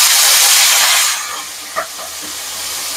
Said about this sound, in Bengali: তেল গরম হয়ে গেছে, মাছ দিয়ে দিচ্ছি।